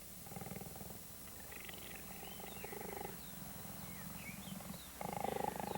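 At Kango Wildlife Ranch a cheetah purrs in a steady, rhythmic rumble that pulses in phases close to the listener, with faint birdsong in the background.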